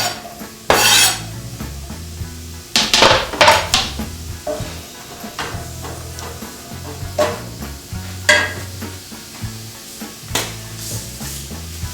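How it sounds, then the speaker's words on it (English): Garlic and sliced mushrooms sizzle in a pan as a utensil stirs and clanks loudly against the metal, with a softer frying hiss running between the sharp knocks. "And now I'm going to throw the mushrooms into the pan."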